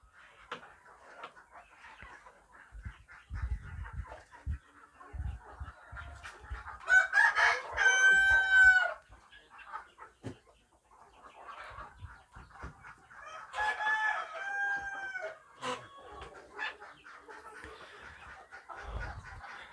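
Roosters crow twice, loud and near, amid steady clucking and scattered chicken calls from a flock of KUB-2 Indonesian native chickens.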